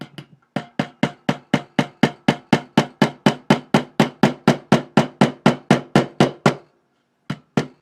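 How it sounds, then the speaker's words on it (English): Hammer tapping tiny nails into a wooden baseball bat, a steady run of about thirty sharp, evenly spaced close strikes, a short pause, then two more taps. "Tap in a few tiny, very tiny nails every once in a while"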